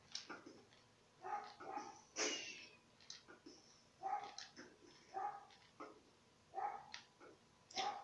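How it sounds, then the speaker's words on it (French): A small dog barks repeatedly in short bursts, fairly near, with sharp yappy barks spaced irregularly and faint snuffling between. "il y a encore le petit toutou qui est en train d'aboyer"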